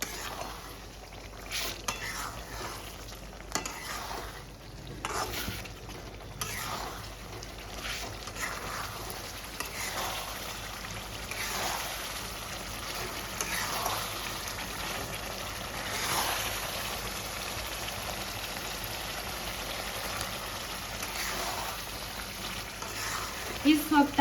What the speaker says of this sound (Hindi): हरा धनिया, अच्छे से मिक्स कर लेना है।